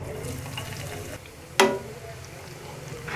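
Chopped garlic and ginger drop into hot desi ghee with a sudden burst of sizzling that fades into a steady frying hiss, a voice talking faintly around it.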